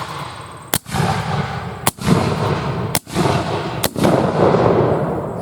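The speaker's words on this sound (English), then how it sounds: "Ready. I'm going to fire by file." Union Army Civil War muskets fire by file at a reenactment demonstration: four loud, sharp reports spaced about a second apart, each followed by a rumbling echo and crowd ambience.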